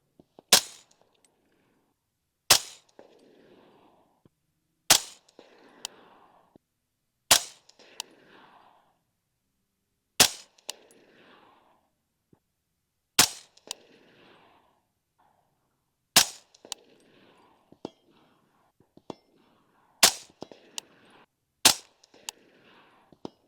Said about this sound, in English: we're gonna go for a straight 10-round group